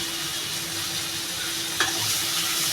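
Raw chickpea curry sautéed in a pan: a steady close sizzle of frying, broken by one brief scrape of a spoon stirring the pan near the end.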